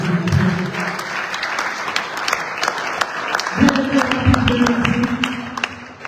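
A church congregation claps together in steady, dense applause throughout, with a low tonal voice or hum running beneath it that swells partway through.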